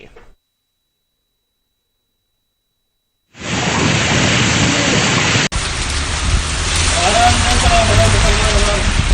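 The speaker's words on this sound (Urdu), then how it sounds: "کہیں موسلادھار، کہیں ہلکی پھلکی بارش تو کہیں بوندا باندی ہوئی" Heavy monsoon rain falling in Karachi, a loud, dense, steady wash of downpour that starts abruptly after a short silence and then continues close and unbroken, with a brief cut partway through.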